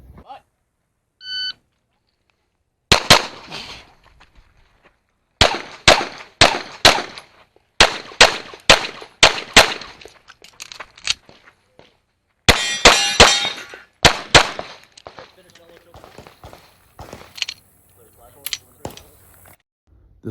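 Pistol shots ring off steel targets during an IDPA National Championship stage, an activator steel and a drop turner among them. A short timer beep comes first, then rapid strings of sharp cracks with metallic clangs in quick bursts, loud and close.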